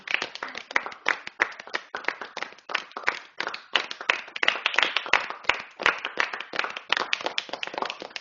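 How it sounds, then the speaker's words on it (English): Classmates clap for fellow students in a classroom: a steady patter of many hands, moderately close, carrying on without voices. "Please clap for them."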